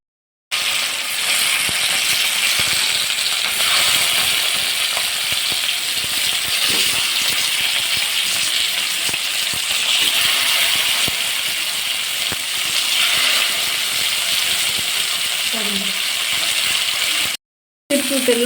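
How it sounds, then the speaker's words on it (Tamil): Fish pieces fry in oil on a dosa griddle, giving a loud, continuous hiss and crackle close by that holds steady throughout. "மீன் துண்டுகளை எடுத்து வறுத்து எடுத்துக்கலாம்."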